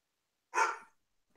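A single short bark sounds alone against silence, clear and close; a voice imitates a dog barking.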